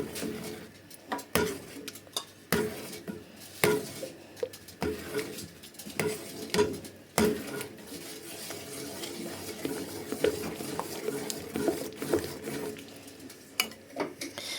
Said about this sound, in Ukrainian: Вимішуємо туди крохмаль.